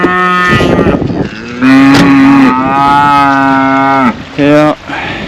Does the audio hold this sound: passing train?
no